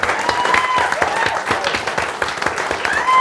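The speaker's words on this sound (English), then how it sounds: "a round of applause for our special guest today" A live audience gives a special guest a round of applause at a comedy drinks show, with loud, dense, continuous clapping close by.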